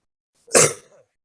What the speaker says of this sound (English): I'm not even going to gloss over the cough.